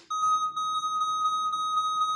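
A continuous, steady electronic alarm tone with a high pitch, loud and unbroken throughout, from a fire alarm in Minecraft.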